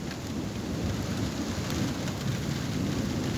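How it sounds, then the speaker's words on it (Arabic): Thunderstorm with heavy rain, a dense steady hiss of rainfall on surfaces with low rumbling thunder underneath, continuous and close, no voices. "رعود وبرق والأمطار تتساقط"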